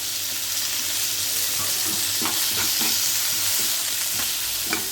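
Curry leaves hit hot oil for a foxtail millet pongal tempering, setting off a loud, dense sizzle with popping crackles throughout, near and continuous.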